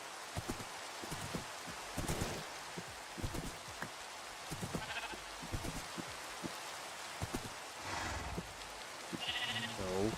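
Sheep bleat intermittently in a crafting video game, short calls scattered over a patter of rain and soft clicking footsteps, with a few brief higher tones near the end.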